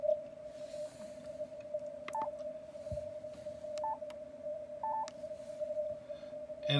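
A weak CW Morse signal received on a Yaesu FT-891 transceiver with a tight audio peak filter, a steady tone running through hiss and noise, with a few short keyed blips.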